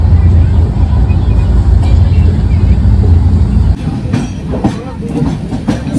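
A passenger train on the Howrah to Jammu route rumbles loudly along the tracks with a heavy low roar and clattering wheels, easing to a lighter rattle partway through, with occasional voices nearby.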